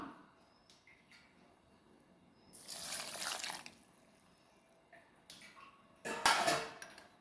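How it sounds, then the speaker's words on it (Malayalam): Water is poured into a mixer-grinder jar holding dates for a homemade juice. There are two short splashing pours with light clinks of the jar between them, close by in a quiet kitchen. "പിന്നെ നമുക്ക് ആവശ്യത്തിനുള്ള വെള്ളം ഒഴിച്ചു കൊടുക്കാം."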